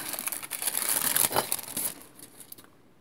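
Backing paper is peeled off a piece of polymer clay, a close, crinkly rustle and tearing sound lasting a couple of seconds before fading to quiet.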